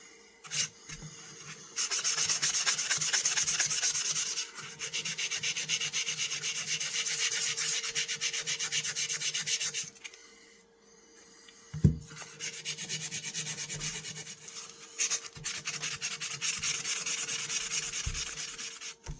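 Fine abrasive paper rubs steadily over a rusty vintage knife blade, a close, quiet scratching in long repeated strokes with a few short pauses and a brief knock.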